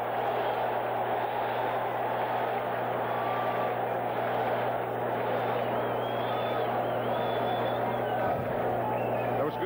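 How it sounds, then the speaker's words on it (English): Stadium crowd at a 1983 NFL game between the Denver Broncos and Baltimore Colts, reacting after a Broncos drive is stopped; a steady, dense roar of many voices fills the whole stretch without letup. "the crowd reacts to the Baltimore defensive effort"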